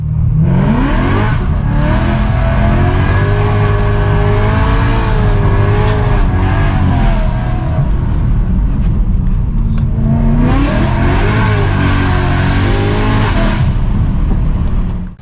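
A BMW M3 E92 laps Brands Hatch Indy in Need for Speed, its engine loud and close throughout, revving hard with rising gear pulls, a dip around the middle, then surging again.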